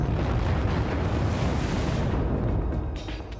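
A supernova explosion rendered as a space-documentary sound effect: a sustained, loud, dense rumbling roar filling the whole clip, easing slightly toward the end, with no voices.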